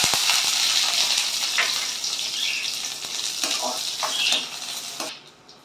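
Onions frying and sizzling in hot oil for a Rameswaram-style fish curry, a steady close hiss with a few stirring scrapes and utensil clinks, fading near the end.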